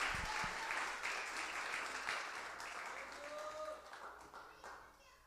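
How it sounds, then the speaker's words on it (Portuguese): A church congregation claps during a children's service, starting loud and gradually fading over several seconds, with voices audible beneath the applause. "Aplauda ao Senhor."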